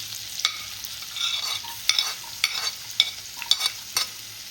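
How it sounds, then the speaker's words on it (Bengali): Finely chopped onion and plenty of garlic frying in a pan of oil for salt and pepper shrimp, a soft steady sizzle broken by sharp spatula clacks and stirring scrapes at irregular intervals. "এবার দেবো পেঁয়াজ কুচি।"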